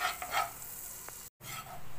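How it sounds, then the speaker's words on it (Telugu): Cornflour frying in melted butter in a pan, a soft close sizzle with a few light stirring scrapes, briefly cut to silence partway through. "కార్న్ఫ్లోర్ వేసుకొని బాగా ఫ్రై చేసుకోవాలి బటర్లో."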